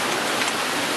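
Heavy storm rain pours outside a house in Islamabad, a loud, unbroken roar of water hammering surfaces close by, with no voices.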